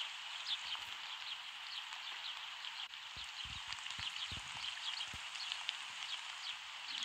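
Steady rain in a video game patters and hisses on a surface, fairly quiet, with scattered heavier drops and faint knocks underneath.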